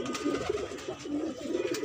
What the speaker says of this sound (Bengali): আমরা কবুতর ঢুকাচ্ছি অল্প কিছুক্ষণের জন্য